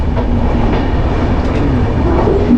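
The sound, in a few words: Jan Shatabdi Express train leaving Patna Junction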